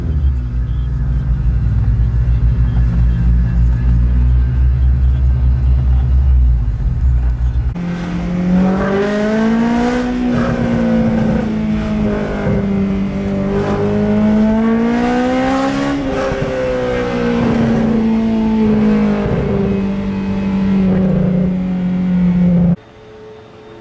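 A Honda S2000 engine starts and idles roughly, then revs up and down loudly in rising and falling sweeps before cutting off abruptly near the end.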